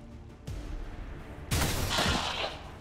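Gunfire in XCOM 2, a burst of shots then a louder, denser volley with a boomy tail, alone without talk.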